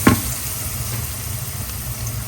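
Onion, garlic and green chili sizzle steadily in a hot pan with turmeric and salt, a constant close frying hiss with a brief louder crackle at the start.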